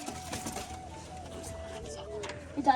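A pigeon coos softly among a loft of pigeons, a low, steady murmuring call running under nearby talk and small clattering, with a brief louder knock at the end.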